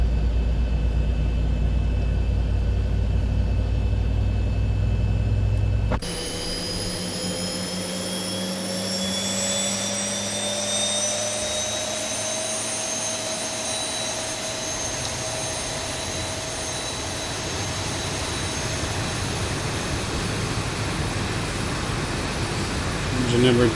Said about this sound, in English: Engine number 2 is coming alive.